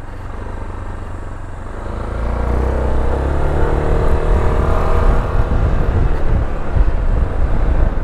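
A 2025 SYM ADX TG 400 adventure scooter engine running steadily and close on a test ride, with a low droning rumble that builds slightly as it rides along.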